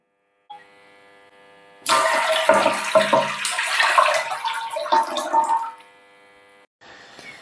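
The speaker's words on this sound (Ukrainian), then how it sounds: "В каструльку вливаємо воду, ставимо на вогонь та доводимо до кипіння." Water is poured from a tap into a saucepan to make a marinade for pickled cucumbers, a loud splashing gush of about five seconds between quieter hum, with no talking.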